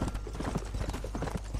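Horse hooves clip-clop at a steady trotting rhythm in the Western video game Red Dead Redemption, close and fairly loud, with a brief faint whinny-like sound and no clear speech.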